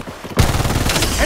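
Close, loud gunfire from an Origin-12 loadout in Blood Strike bursts in suddenly as a rapid, dense volley that keeps going to the end.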